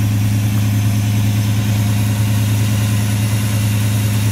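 A restored 1970 Chevelle Super Sport with a 396 V8 idles close by, a loud, steady low rumble with an even throb and no change in revs, alone with no voices.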